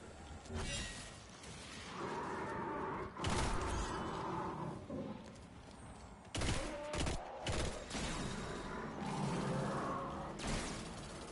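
Weapon fire in the shooter game Destiny 2, bursts of shots and sharp cracks coming in irregular clusters between quieter stretches of game ambience, with no talk over it.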